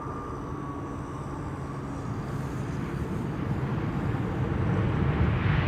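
A Transavia airliner, a 15-year-old aircraft registered PH-HSW, arrives at Amsterdam Schiphol Airport, a broad low roar that grows steadily louder as it approaches, heard from a distance with no talking.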